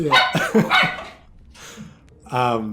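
Several dogs bark in sharp bursts close by, mixed with talking, then a brief lull before another loud bark near the end.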